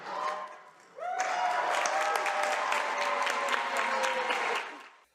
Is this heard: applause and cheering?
yes